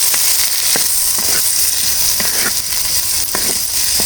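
Onions and tomatoes fry in a pan for a tomato kurma, giving off a steady, loud hiss of sizzling oil. Sharp light ticks and scrapes of a spoon stirring break in at irregular intervals.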